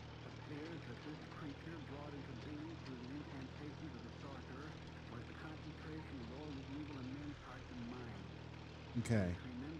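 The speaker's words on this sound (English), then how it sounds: "That's a plane." A propeller airplane drones overhead, its engine hum rising and falling steadily throughout, fairly faint, with a brief louder crackle near the end.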